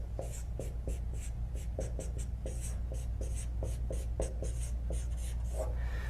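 Notes are written by hand on a board in quick, scratchy bursts. Short marker or pen strokes repeat at an irregular rhythm, close and clear over a steady low hum, with no talking.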